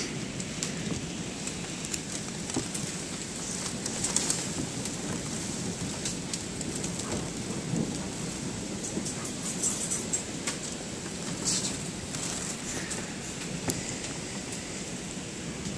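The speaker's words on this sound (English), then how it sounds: "Now it's hailing." Hail falls in a dense, steady patter that sounds like heavy rain on a surface, continuous and fairly loud, with no voices, during a June hailstorm in Fort Collins.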